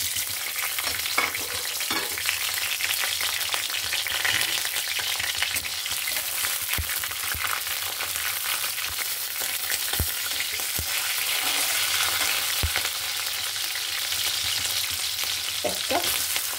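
Bay leaf, cinnamon sticks, green chillies and cardamom fry in hot oil in a pan with a loud, continuous sizzle, broken by occasional clicks of stirring, and no one speaks.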